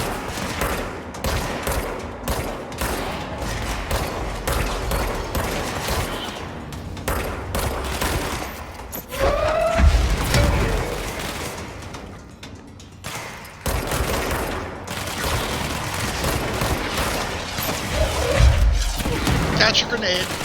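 Sniper gunfire and explosions from the video game Control ring out in repeated sharp cracks and booms amid continuous combat noise, with someone talking over the action.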